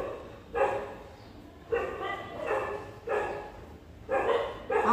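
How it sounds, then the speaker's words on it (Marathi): Dogs bark at a residential building, several loud bark bursts recurring about once a second or so, fairly close, with no talk over them. "आमच्या बिल्डिंगचे रखवालदार सारखे भुंकत असतात आणि त्यांचाच आवाज कॅमेऱ्यामध्ये व्हिडिओमध्ये येतो बऱ्याच वेळा"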